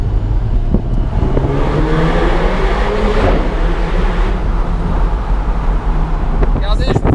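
Alpine A110 sports car accelerating through a road tunnel, a loud rising engine note with turbo whoosh and wind noise, heard from inside the cabin while someone talks over it.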